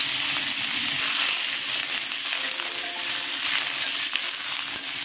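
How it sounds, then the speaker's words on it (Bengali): Coconut fries in a hot pan with a steady, dense sizzle and occasional stirring scrapes, loud and close, with no talking over it. "নারকেল দিয়ে নারকেল ভেজে নিচ্ছি"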